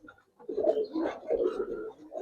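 Gribaz pigeons, coloring breed, coo softly at close range in a few low, throaty rolling phrases, with a brief quiet gap near the start.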